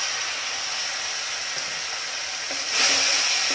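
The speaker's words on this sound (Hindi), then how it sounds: "यहाँ पे पानी देके भून लेंगे।" Masala with salt and turmeric sizzles as it is fried with a splash of water in a kadai, a steady close hiss that swells louder toward the end, with no talking.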